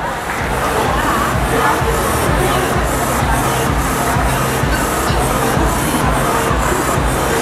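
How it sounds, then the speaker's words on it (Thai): Sustained, loud applause from an audience at an Ambi Pur event, a thick, even wash of many hands clapping that holds steady throughout without any speech over it. "ผมขอบคุณครับขอเสียงปรบมือด้วยครับ"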